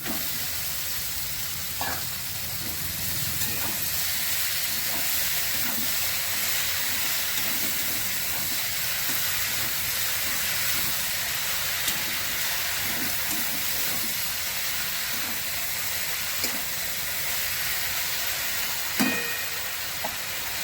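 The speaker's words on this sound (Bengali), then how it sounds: "মশলাটা কষানো হয়ে গেছে, এবার আমি লতিগুলো দিয়ে দিচ্ছি।" Taro stolons go into a pan of cooked spice paste with green chilies for a prawn dish, and a continuous loud sizzle and hiss of frying follows, broken by occasional scraping stirs.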